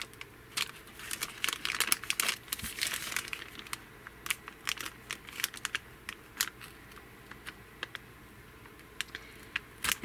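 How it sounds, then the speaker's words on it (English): Sharp, irregular crinkly snips and crackles of scissors cutting through a thin glassine bag, close and fairly quiet, coming in uneven bursts. "I just got the tip of my scissors, and we're just going to cut this all the way."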